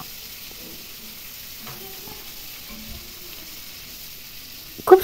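Prawns fry in hot oil with cumin in a kadai for a Bengali chingri curry, giving a faint, low sizzle with soft stirring scrapes, ending in a louder clatter at the very end.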